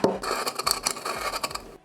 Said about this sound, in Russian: в ступку пересыпаем перец. И размалываем.